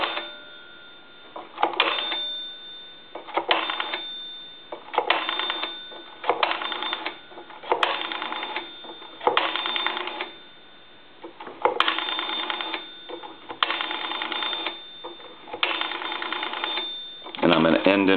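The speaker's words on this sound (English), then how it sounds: "now we're going to dial some numbers with this telephone" A three-slot A&E payphone on a repair bench is dialed one number after another, each press bringing a short burst of tone. The bursts repeat in an irregular rhythm with brief pauses between them, close and fairly loud.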